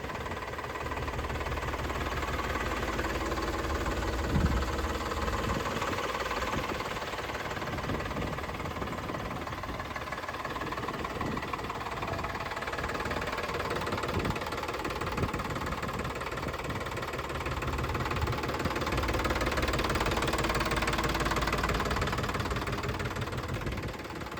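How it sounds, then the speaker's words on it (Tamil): A 2024 Eicher 485 tractor with an air-cooled engine idles steadily and close by, a continuous loud, knocking diesel rumble with fine mechanical rattles and no speech over it. "உங்களுக்கு ஈச்சரில் 485னா ஏர் கூல்டு இன்ஜின் வந்துருங்க"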